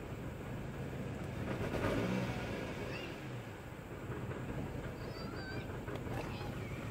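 A car engine that has been running rough, after water got into the fuel and isopropyl alcohol was added, idles after starting. The low, uneven rumble is faint and steady.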